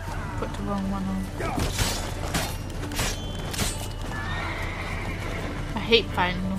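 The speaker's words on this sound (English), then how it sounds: "I hate fighting a horse." Horse in The Witcher 3 video game, neighing and whinnying with clip-clop hoofbeats, set among game sound effects and background music while someone talks over it.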